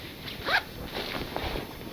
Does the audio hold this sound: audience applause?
no